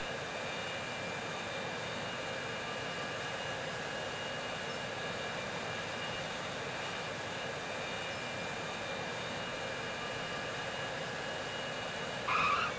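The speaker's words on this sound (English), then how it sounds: "So let's just watch this plane land." A passenger airplane lands in the video game Transport Fever 2, a steady synthetic jet engine drone holding evenly throughout, with a brief brighter swell of noise near the end.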